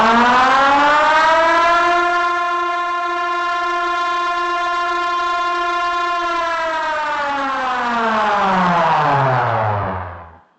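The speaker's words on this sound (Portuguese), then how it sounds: "em alguns segundos você vai ouvir soar a sirene" A loud dam-break warning siren at a mining site wails steadily for several seconds, then its pitch slides downward as it winds down and fades out.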